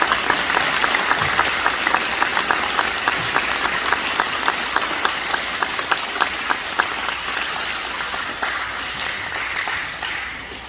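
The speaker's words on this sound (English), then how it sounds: "let's give them a round of applause" Audience at a veterans assembly applauding a band after special music, sustained loud clapping from a large crowd with a rhythmic pulse, fading slightly toward the end.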